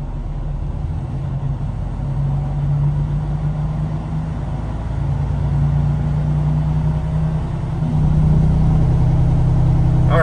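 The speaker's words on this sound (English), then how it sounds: "That noise you hear is gonna be the sound of the engine brakes doing their job." A diesel truck engine runs steadily with its engine brakes engaged during an SCR system test, a constant low mechanical drone that grows louder and heavier toward the end, with no speech.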